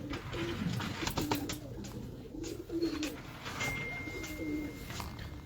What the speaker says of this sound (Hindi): ये 2 कबूतरियां हैं, दोनों अट्ठे की हैं